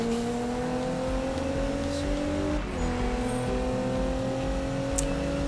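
A race car in Need for Speed 2015 drifting, its engine holding a steady loud revving drone that dips briefly and rises again, with faint tire noise and no talk.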